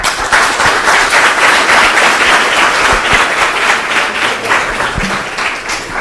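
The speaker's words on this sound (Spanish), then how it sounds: "Creo que se merecen otro aplauso nuestros panelistas." An audience applauds a legal discussion panel steadily for several seconds, dense clapping from many hands filling the room without a break.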